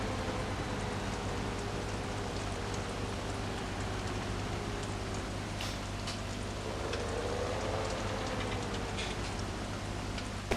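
Steady rain falls in the video game Farming Simulator 17 on a Fendt farm at night, a soft, even hiss of drops with faint ticks and a low engine-like hum beneath.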